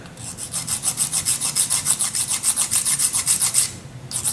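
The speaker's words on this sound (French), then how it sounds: "on va utiliser une lime emery, donc une lime à ongles, toute bête, qui va vous permettre de limer, tout simplement, de poncer" An emery nail file sands hardened resin in quick, steady back-and-forth strokes, a close, dry raspy scrape repeating about five times per second before a brief pause and a restart.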